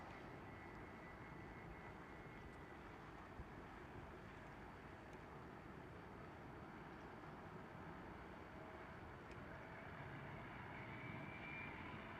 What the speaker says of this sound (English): Oh, Delta Airlines A330neo.